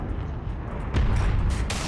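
A Panzer IV/70 tank gun fires in a video game, a single heavy boom landing about midway through low rumbling engine and battle noise.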